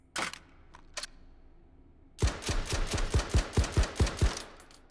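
Mark 12 rifle in a VR shooting game fires ten rapid rounds, sharp close cracks in an even rhythm after two isolated earlier clicks, then quiet.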